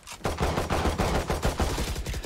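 Rapid gunfire in the video game Valorant, a fast series of sharp shots in quick bursts at moderate level, with no talking over it.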